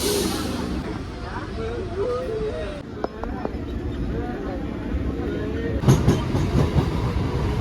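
A local train departing Sealdah station rumbles steadily along with faint rhythmic clatter, while a person talks over the noise; a sharper metallic burst comes near the end.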